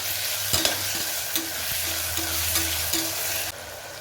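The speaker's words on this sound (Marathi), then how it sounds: "टोमॅटो सुद्धा व्यवस्थित तेलावर परतून घ्यायचा" Tomatoes sauté in oil with browned onions for a vegetable pulao, giving a steady close sizzle with intermittent scraping strokes of a spoon against the pan.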